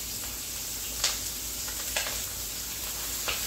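Flour-dredged chicken pieces browning in a hot pan for Mediterranean chicken cacciatore, a steady soft sizzle throughout with a few brief louder crackles and stirring scrapes, no talk.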